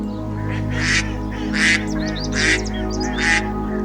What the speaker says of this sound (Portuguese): O pato azul é uma espécie endêmica da Nova Zelândia